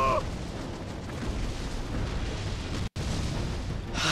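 Cannon explosions in the video game Skylanders Giants, heavy rumbling blasts forming a dense, sustained roar of booming fire with a brief cut-out near the end.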